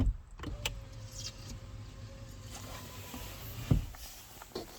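The electric sunroof of a high-mileage Volvo V70 running, a low steady motor whine held for several seconds inside the car, with a few faint clicks and knocks and no talking.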